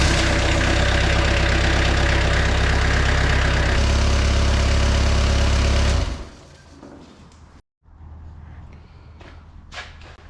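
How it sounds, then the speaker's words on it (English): A Eurotrac loader's engine runs loud and close with a steady mechanical drone, then cuts off abruptly partway through, leaving quieter background noise and a few faint knocks. "I'm just gonna start the machine up and see if some of the oil disappears"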